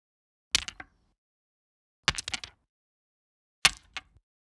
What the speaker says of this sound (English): Those sound like this dry